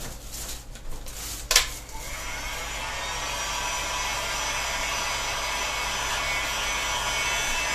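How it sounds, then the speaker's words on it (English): Heat gun blowing a continuous hiss of hot air to remelt hot glue on a carved bow, starting after a few brief clicks and handling noises, then steady and moderately loud. "Now taking the heat gun, let's plug it in, and we can remelt all of that hot glue which we applied."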